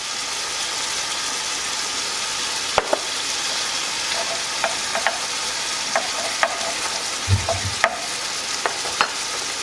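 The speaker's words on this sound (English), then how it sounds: "I'm gonna go ahead and add my chopped garlic and onion." Ground meat fries in a pan with chopped garlic and onion, giving a continuous sizzle close by, with sharp clicks and scrapes from stirring every second or so.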